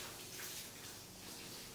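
Water flows across a flooded hall floor indoors with a soft, steady wash and trickle, faint and continuous without any speech.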